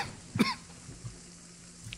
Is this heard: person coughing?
yes